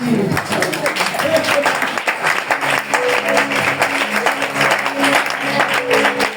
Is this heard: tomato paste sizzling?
no